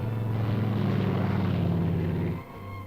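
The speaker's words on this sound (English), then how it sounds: "A wave from the pilot before the plane darts down the runway." A propeller plane's engine drones loudly and steadily nearby as it takes off down the runway, then drops sharply in level near the end as it moves off.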